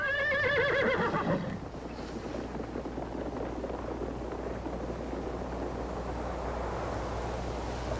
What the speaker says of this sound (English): Did you ever hear a horse laugh?